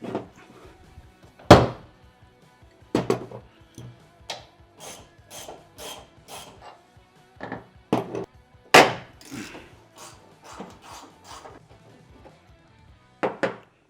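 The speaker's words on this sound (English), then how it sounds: "For the big one, I'm going to use a breaker bar just because I don't think I'll be able to get this with just my little ratchets" Breaker bar and ratchet loosening the bed bolts on a 2016-or-later Toyota Tacoma, a series of sharp metallic clacks and knocks at irregular intervals, close by, with quieter ratcheting clicks between them and no voices.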